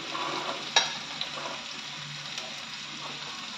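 Chopped onion hisses and sizzles in a pan with beans and garlic, a steady frying crackle with a couple of sharp clicks of a spoon stirring, close and continuous with no talking.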